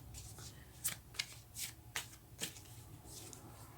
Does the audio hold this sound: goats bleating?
no